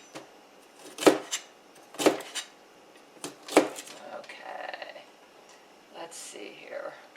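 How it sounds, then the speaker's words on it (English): Knife chopping celery on a cutting board, several sharp, separate cuts spaced about a second apart, close and fairly loud, with soft whispering and light kitchen clatter between them. "I'm working on chopping the celery"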